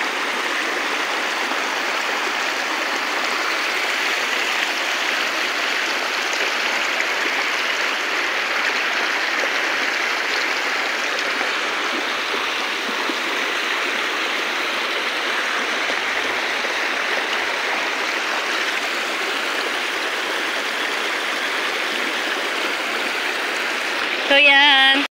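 A stream at Hacienda Dolores rushes loudly and continuously over slippery rocks, a dense steady wash of water filling the whole stretch, with a brief louder knock right at the end.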